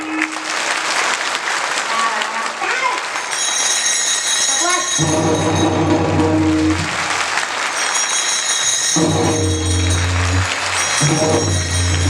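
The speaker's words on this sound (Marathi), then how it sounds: "टाळ्या" An audience claps at a kirtan, with bursts of applause and steady rhythmic clapping over loud devotional music. Voices and crowd noise run throughout.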